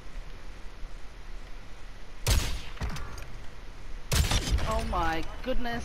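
Sniper gunfire in the video game Call of Duty: Warzone, with two loud sharp shot bursts cracking out of quiet background, followed by a person speaking.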